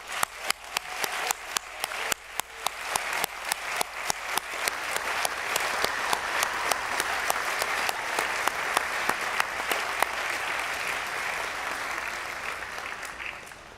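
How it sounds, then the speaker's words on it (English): Sustained applause for university staff at a spring convocation ceremony: individual claps at first, then a large audience's clapping builds into a dense, even roar that holds steady before easing slightly at the end. "let us put our hands together in a loud applause"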